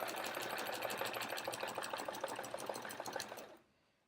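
A sewing machine runs steadily, stitching a quilt along the edge for an hourglass block, its fast mechanical needle chatter close and even for several seconds before stopping abruptly.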